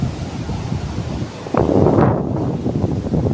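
Big sea waves at high tide with strong wind buffeting the microphone, a steady roar of surf and gusts that swells louder midway and stays loud to the end.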